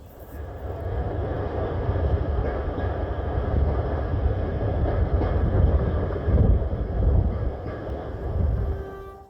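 A steady low rumble of a heritage train in motion on the Isle of Wight's Ryde and Newport line, continuous and fairly loud, with wind buffeting the microphone throughout.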